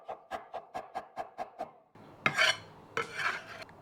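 A knife finely chops an onion on a cutting board with about nine quick, evenly spaced taps, then a pause and a few louder scraping sweeps across the board, close and clear, with no speech.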